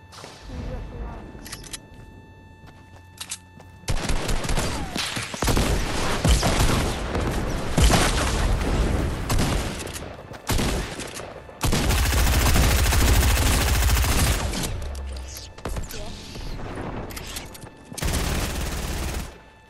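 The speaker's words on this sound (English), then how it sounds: "I've got a sniper, so I'll snipe them back." Repeated gunfire from a sniper rifle and other weapons in a battle-royale style video game, with loud bursts and sustained volleys across most of the stretch, occasional brief voice underneath.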